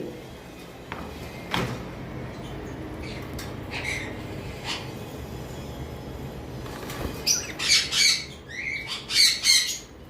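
An albino lovebird in a cage gives sharp, repeated squawks that come in quick bursts and grow louder toward the end, over a quiet low background hum.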